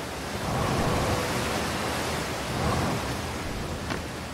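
A rushing waterfall in the video game Outer Wilds gives a steady broad roar of falling water, close and continuous with slight swells, and no voices over it.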